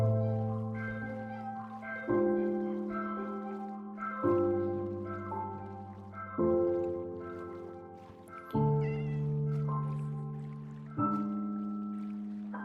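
Minecraft cats meow in a series of drawn-out, tonal cries, roughly one every two seconds, moderately close and clear with no talk.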